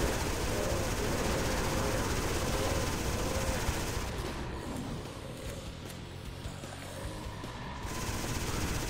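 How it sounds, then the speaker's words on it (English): Minigun fire in the shooter game Nation Red rattles as continuous rapid bursts, steady and fairly loud, easing briefly midway before picking back up. "Got some minigun this time."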